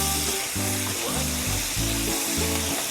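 Peppers dusted with homemade fish fajita seasoning sizzle steadily in a hot pan, a close, continuous frying hiss broken by low rhythmic knocks as they are stirred around.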